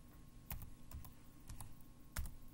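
Fingers tap out a short word on a computer keyboard in a quiet room, a handful of crisp, close keystrokes spaced unevenly, ending with a firmer press.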